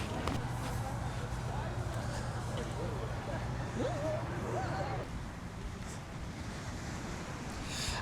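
Ocean surf washing steadily on a Florida beach, a broad continuous roar with wind buffeting the microphone, and people talking briefly over it.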